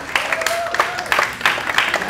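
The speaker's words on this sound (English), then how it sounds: "Okay, we might keep the clapping down a little bit." An audience at an environment forum ahead of the 2014 South Australian state election breaks into clapping with some cheering, uneven bursts of hands over a couple of seconds with faint vocal sounds mixed in.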